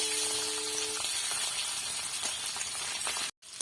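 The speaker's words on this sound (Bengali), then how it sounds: "এবারে সামান্য একটু লবণ আর একটুখানি হলুদ গুঁড়ো পনিরগুলো ভালো করে ভেজে নেব" Paneer fries in a pan with salt and turmeric, giving a steady close sizzle and hiss with a few faint clinks, broken by a brief silent gap near the end.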